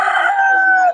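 A black Mac Rae rooster crows once, loud and close, a sustained harmonic call that holds steady for about a second before cutting off.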